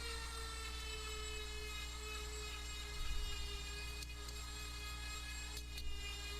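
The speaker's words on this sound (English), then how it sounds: "that drum sanding wheel makes quick work out of that" A steady high-pitched whine of a small rotary tool with a drum sanding wheel running continuously on birch wood, with a low hum underneath and brief rougher bursts as it grinds against the surface.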